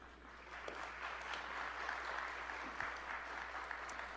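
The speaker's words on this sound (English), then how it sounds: "Applause for the lunch." Audience applause at a State of the City 2022 luncheon event, a steady wash of many hands clapping at moderate distance, sustained evenly through the whole stretch with no voices standing out.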